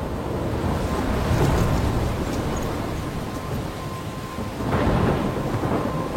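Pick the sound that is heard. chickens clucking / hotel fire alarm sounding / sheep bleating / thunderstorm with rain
thunderstorm with rain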